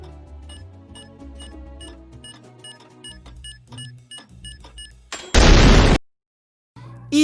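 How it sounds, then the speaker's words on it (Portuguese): Bomb-like sound effect from WandaVision episode 1, a bomb about to explode: soft tonal notes and plinks give way to one loud, harsh noise burst lasting under a second, then silence before another onset. "a gente ouve também um barulho de bomba, né, mais ou menos como se uma bomba estivesse próxima a explodir"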